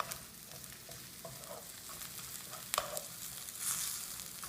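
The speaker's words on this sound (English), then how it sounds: "I think the garlic is getting cooked very nicely" Garlic sizzling in oil in a pan for a moong dal tarka, a steady close crackle with occasional sharper pops and stirring scrapes, no talking.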